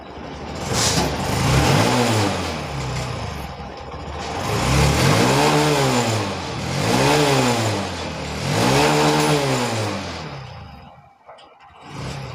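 A BS6 motorcycle engine is revved repeatedly, four rising-and-falling blips close and loud, each climbing in pitch and dropping back toward idle before the sound cuts off near the end.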